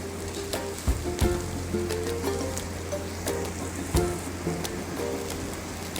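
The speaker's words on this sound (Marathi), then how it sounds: "कांदा चांगला परतून झाला की" Onion sautéing in a pan for prawn masala makes a continuous, close crackling sizzle with dense popping and a few louder taps of stirring throughout.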